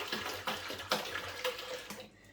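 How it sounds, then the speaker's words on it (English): Water sloshing and splashing while a Pinter home-brew keg is rinsed out, with several irregular louder surges of pouring water over a steady running wash, close and moderately loud before cutting off abruptly at the end. "just keep on rinsing it with your water."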